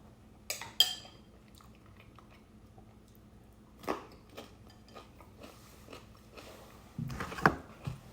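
Someone eats eggs seasoned with a sprinkle of bouillon: quiet, scattered bites and chewing with a few faint utensil clicks, the loudest crunches near the start and the end.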